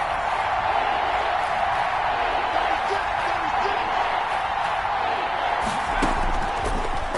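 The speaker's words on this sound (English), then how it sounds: "the crowd getting into it as we come up on a big third down" A football stadium crowd roars steadily ahead of a big third-down play, a dense, continuous wall of distant cheering and noise with a few sharper bursts near the end.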